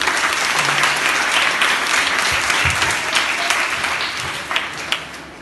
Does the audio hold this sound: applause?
yes